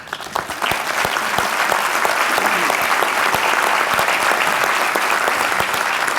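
A large audience at the Las Vegas State of the City 2017 address breaks into sustained, even applause. Dense clapping fills the whole stretch at a steady volume with no voices over it.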